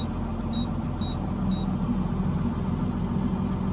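A vehicle engine idles and warms up with a steady, even low rumble, close and unchanging throughout, with three faint short beeps near the start.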